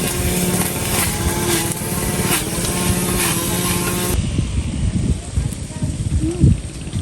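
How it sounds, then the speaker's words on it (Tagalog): A grass cutter engine drones steadily at close range with a buzzing high-pitched whine, then the tone shifts to a rougher, more muffled running sound while people talk over it. "Gustong-gustong gamitin yung grass cutter."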